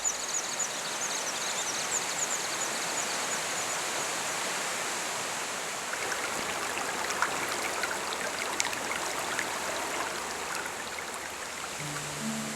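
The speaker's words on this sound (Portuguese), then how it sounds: "Ao final da trilha, fomos surpreendidos por uma queda d'água espetacular." Cachoeira Simão Pereira, a waterfall over rock in Chapada dos Veadeiros National Park, gives a constant heavy roar of falling water, steady and unbroken with no voices.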